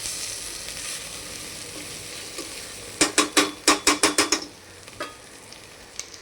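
Masala roasting in oil in a pan: a steady soft sizzle, then a quick series of about nine sharp scraping stirs, followed by a few scattered single scrapes.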